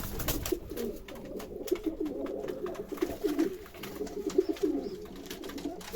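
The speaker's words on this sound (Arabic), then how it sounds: "بص الحمام بيدب ببعض ازاي" Pigeons coo in low, repeated throaty calls over a soft outdoor background, with faint rustling and no talking.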